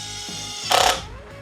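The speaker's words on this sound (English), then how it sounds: "Let's see how the auto function works for driving fasteners into wood." A Makita drill in auto mode drives a fastener into wood, giving a short whirring run with a brief louder burst of effort in the middle, heard alone.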